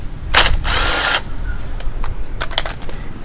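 A screw on a Kawasaki motorcycle engine is being undone with a power tool, two short whirring bursts followed by a series of quick metallic clicks and ticks, close and fairly loud.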